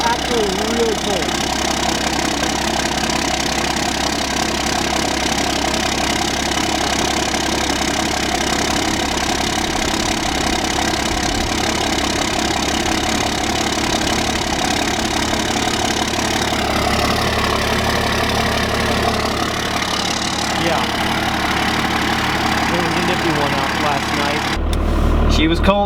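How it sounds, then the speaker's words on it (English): A 12-valve Cummins diesel idles after a cold start, a loud, steady low clattering rumble that settles and stabilizes, with a sharper engine change near the end; someone talks over it. "Her idle is stabilizing out pretty much where I'd like to have it."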